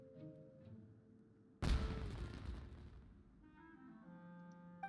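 A single loud firework blast in the video game Genshin Impact, a sudden boom that decays over a second or so, framed by quiet game music and ambience before and after.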